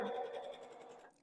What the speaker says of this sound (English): So what I'm going to do is continuously sew this together.